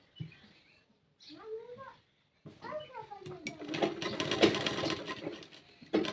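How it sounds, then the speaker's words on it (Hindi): Sewing machine stitching the top seam of a kanchli blouse, a close rattling run that starts mid-clip after short voiced sounds, with a brief stop and restart at the end. "अब इसे भी घुमा के ऊपर की सिलाई लगा देंगे"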